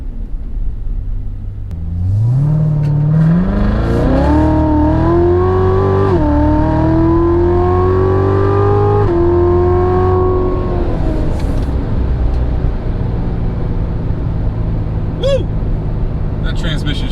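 A Chevrolet C8 Corvette pulls away and accelerates, the engine drone rising in pitch through a couple of quick gear shifts before settling to a steady cruise hum, loud and close, with a brief click near the end.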